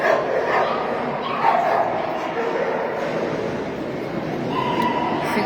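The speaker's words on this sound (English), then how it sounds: "The Border Terrier." A Border Terrier barks and yips amid the steady crowd hubbub of a national terrier championship show, the dog's calls partly buried in the surrounding noise and voices.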